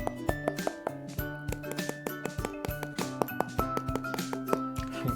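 A stylus taps repeatedly on the screen of a Xiaomi Pad 6 tablet, giving a fairly quiet, steady run of sharp, hard clicks with no voices.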